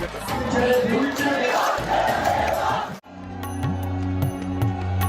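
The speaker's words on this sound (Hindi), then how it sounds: "भक्तों की भीड़ बाबा के जयकारे लगाते हुए गुलाल उड़ाती रही।" Thousands of devotees at a Holi celebration chant slogans to Baba while throwing gulal: a loud, dense crowd roar of voices for about three seconds, then an abrupt cut to music.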